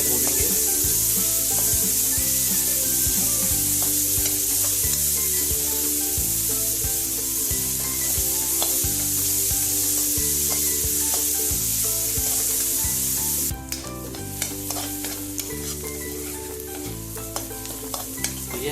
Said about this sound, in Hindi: साथ ही साथ ये मैंने 2 प्याज चॉप कर रखी है, ये डाल देंगे। अब हम इसको अच्छी तरीके से भूनेंगे।